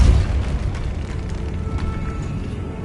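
A Depulso spell blast in a Harry Potter video game, a deep booming burst at the start that decays into a low rumbling tail.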